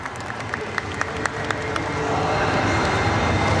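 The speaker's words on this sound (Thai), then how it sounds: "ขอเสียงปรบมือต้อนรับทุกท่านค่ะ" An audience at an international sports seminar in Thailand claps to welcome guests, starting as scattered sharp claps and swelling into denser, steady applause.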